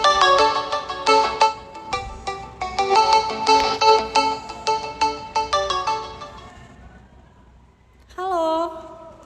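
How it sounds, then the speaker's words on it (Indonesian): A telephone rings in a repeating melodic electronic pattern during a live radio broadcast, loud and clear in bursts before fading, followed by a brief tonal sound near the end. "di sini saya sudah menerima telepon. Saya angkat dulu ya."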